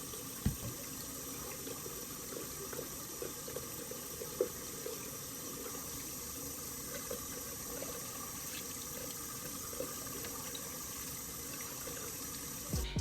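Water runs steadily from a tap in a continuous hiss while a face is washed, with faint splashes and small knocks now and then.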